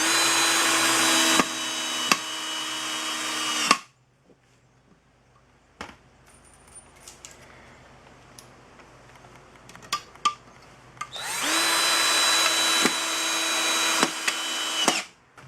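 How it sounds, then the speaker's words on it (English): A power drill drives screws into the frame of a homemade weighted sled in two long, loud whirring runs that start and stop abruptly, with faint clicks and handling noises in the quiet gap between them. "Now I'm just going to line everything up and put the screws in."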